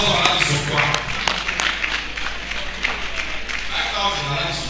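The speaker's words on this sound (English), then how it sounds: "Please, let's clap to motivate." An audience at a commemorative lecture hall breaks into scattered applause that blends with ongoing talk and room noise, steady and moderately loud.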